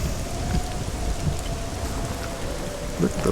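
Steady storm rain from the video game Hellblade: Senua's Sacrifice, a dense continuous wash of rainfall with a low rumbling undertone suggesting distant thunder, with no voices.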